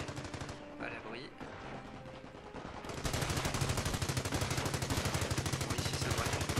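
Rapid machine gun fire and explosions in the World War II strategy game Company of Heroes, dense rattling bursts that grow louder and continuous after a few seconds.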